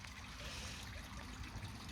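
Quiet, continuous trickle of water spilling from small stone filter waterfalls into a garden pond, a soft, steady splash with a faint airy hiss behind it.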